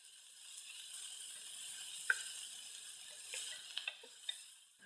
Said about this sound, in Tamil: பொடியா நறுக்கி வச்ச ஒரு வெங்காயத்தை சேர்த்து நல்லா பொன்னிறமா வதக்கிக்கிடலாம்